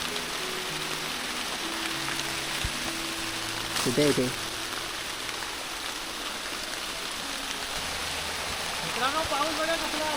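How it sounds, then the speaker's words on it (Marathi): Heavy monsoon rain pours down in a dense jungle as a steady, loud broadband hiss through the whole stretch, with a voice briefly speaking over it. "हे बघा जोरात पाऊस पडतोय."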